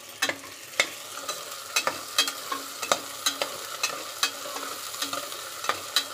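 Tomatoes stirred into ginger paste frying in a pan for mutton paya gravy curry: a steady run of sharp spatula scrapes and knocks about every half second over a quiet, low sizzle.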